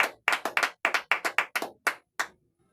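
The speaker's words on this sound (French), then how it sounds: "Gloire au Seigneur Jésus, acclamons le roi de Dieu." Church congregation clapping in acclaim during a deliverance service: about a dozen sharp, close claps in an uneven quick rhythm, then a brief silence, with no talk over them.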